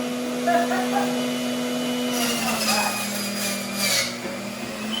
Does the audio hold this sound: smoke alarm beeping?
no